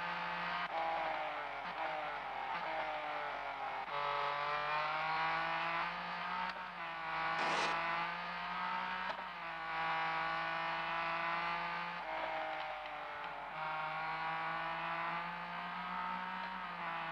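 A 2017 Ford GT's engine in the mobile game Real Racing 3 howls through rising revs and shifts, a continuous loud whine climbing in pitch with brief dips between gears and a short sharp burst midway.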